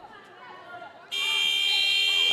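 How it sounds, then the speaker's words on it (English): A loud, sustained electronic buzzer ends the first period of a high school boys wrestling match between Oregon and Milton, cutting in abruptly over a gym full of crowd chatter and holding steady to the end. "That's going to be the buzzer in the end of the first period."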